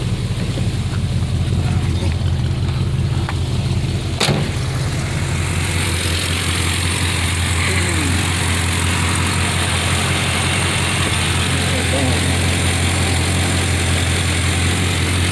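A 1963 Plymouth Belvedere with a newly installed three-core radiator idles steadily, a continuous low engine rumble with a sharp click near the start and faint background hiss throughout.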